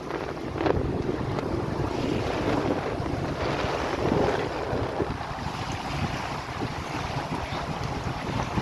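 Steady low engine drone of a sailboat motoring at sea in light wind, with wind buffeting the microphone and a soft wash of water throughout; no voices.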